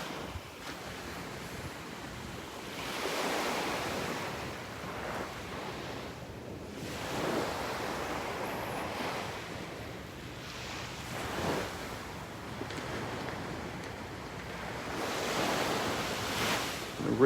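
Ocean surf rolls onto Vanderbilt Beach in the dark before dawn, with slow swells of wash rising and fading every few seconds over steady wind noise and no talking.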